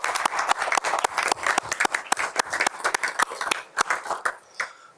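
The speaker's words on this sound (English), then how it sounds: "So again, one last round of applause." An audience at a school board meeting claps for the sheriff's office and local police, a strong burst of many hands with sharp, uneven claps that thin out toward the end.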